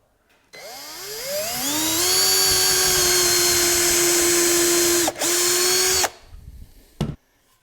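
A power drill whines up to speed and holds a steady pitch as it drives screws into wooden camper levelers. It pauses briefly, runs again, then stops, followed by a single sharp knock.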